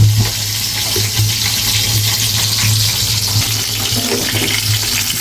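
Eggplant slices fry in oil on a stove with a loud, constant sizzle and bubbling, heard close up and steady throughout, with a low hum underneath.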